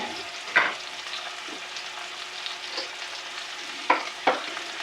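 Onions sautéing in plenty of butter seasoned with Tommy spice in a cast iron pan give a steady close sizzle, broken by a few sharp scrapes and stirs.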